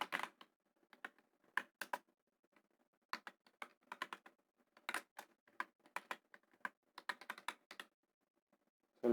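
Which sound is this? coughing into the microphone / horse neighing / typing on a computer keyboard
typing on a computer keyboard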